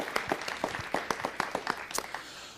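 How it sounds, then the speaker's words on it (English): A short burst of applause from a modest audience at a city council meeting, brisk clapping that tapers off toward the end, fairly close. "Give them a nice round of applause."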